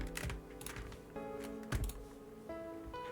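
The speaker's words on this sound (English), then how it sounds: "Let me get my keyboard." Clicky computer keyboard typing comes in short irregular bursts of keystrokes, close and fairly quiet against a faint tonal background, with no voices heard.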